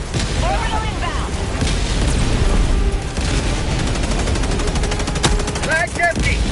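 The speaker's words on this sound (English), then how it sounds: "Firing orbital barrage." Orbital barrage explosions in Helldivers 2 boom and rumble amid heavy machine-gun fire, a loud, continuous battle din with shouted voices breaking in near the end.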